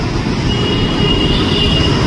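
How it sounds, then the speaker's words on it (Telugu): A metro train at Raidurg station in Hyderabad rumbles loudly and steadily up close, with a faint high wheel squeal running over the dense rolling noise. "అయితే రాయదుర్గ్ మెట్రో స్టేషన్కి వచ్చాం ఫ్రమ్ మెట్టుగూడ."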